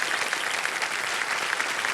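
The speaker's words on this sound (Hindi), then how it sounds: "तालियां बजती रहें इनके लिए।" A TV game show studio audience at Kaun Banega Crorepati applauds loudly and steadily, dense continuous clapping filling the whole moment.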